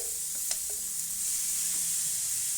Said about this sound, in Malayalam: കടുക് പൊട്ടിയിട്ടുണ്ട് ഇനി കറിവേപ്പില ഇനി നമുക്ക് മിക്സാക്കിയ നമ്മളെ ബീറ്റ്റൂട്ട് ഇട്ട് കൊടുക്കാം